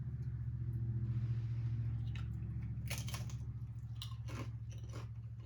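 Tostitos tortilla chips dunked in dip and crunched close up, steady chewing and biting sounds over a low constant rumble, with a few sharper crunches near the end.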